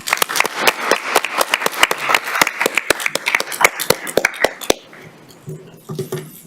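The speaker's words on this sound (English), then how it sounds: "we should have a nice round of applause for our clerks" A town council meeting gives a brief round of applause, loose individual claps from a small room of people, sparse and uneven, then trailing off into quiet murmurs and faint background sound.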